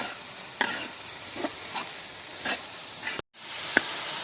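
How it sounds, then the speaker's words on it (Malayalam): Tomatoes stirred into sautéed onions in a pan for a Kerala chicken curry, with a steady sizzling hiss and several soft spoon scrapes spaced about a second apart. "നന്നായിട്ട് ഇളക്കി കൊടുക്കാം."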